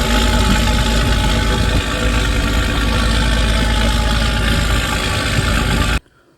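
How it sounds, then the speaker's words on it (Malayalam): A fishing boat's 495 HP six-cylinder diesel engine runs steadily at sea off Kanyakumari, a loud, dense, continuous rumble with a constant drone throughout, until it drops away abruptly at the very end. "495 HP ഹോഴ്സ് പവർ പ്രൊഡ്യൂസ് ചെയ്യുന്ന എൻജിനാണ് നമ്മുടെ ഈ ബോട്ടിലുള്ളത്"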